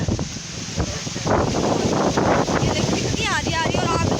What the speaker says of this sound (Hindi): मतलब अच्छी हवा चल रही है।